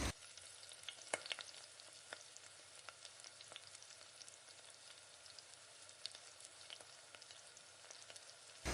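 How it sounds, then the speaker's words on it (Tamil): Tomatoes and onions sautéing together in a pan for a spicy tomato chutney give off a faint, steady sizzle with scattered small pops and crackles throughout. "நல்லா தக்காளி வதங்கட்டும்."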